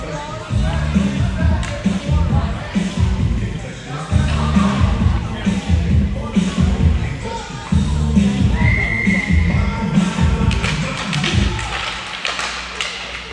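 Referee's whistle during a high school hockey game between the Rails and Fairmont, a single brief mid-high tone cutting through rink noise, skate thuds and crowd murmur while an announcer calls play-by-play.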